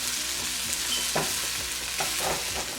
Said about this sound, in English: I'm just basting the top of the beef with some of the sauce in the pan